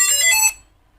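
A FIMI X8 SE drone gives its start-up beep, a short, bright, high electronic tone lasting about half a second and then cutting off into near silence.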